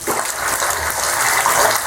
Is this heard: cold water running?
yes